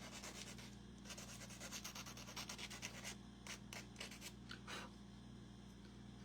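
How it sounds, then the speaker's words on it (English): A small miniature craft part for a spring forest shadow box house is sanded by hand, giving close, quiet rubbing strokes over a steady low hum, with a few brisker scrapes near the end. "then we're just going to sand so we don't hurt ourselves"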